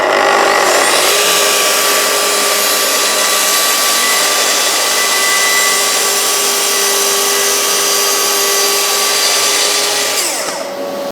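A Festool TS55 track saw rips through 18mm MDF with a loud, sustained high whine and steady cutting roar that holds for about ten seconds, then winds down as the blade spins to a stop.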